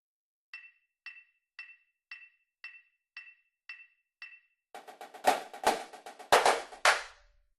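Eight light, evenly spaced metronome-like ticks lead into a burst of loud, cracking snare drum strokes with sharp rim shots and flam rudiments, drumline style, ringing close and bright.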